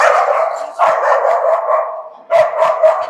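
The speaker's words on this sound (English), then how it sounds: "Everybody loves dogs." A dog barks loudly and repeatedly at a busy outdoor expo, with rough, sustained barking bursts close by, a brief lull, then another volley.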